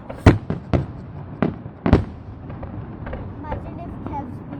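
Fireworks at the Plymouth fireworks championships 2023 go off in sharp, booming bursts, several loud cracks in the first two seconds, then softer distant pops and rumbles, with people talking in the background.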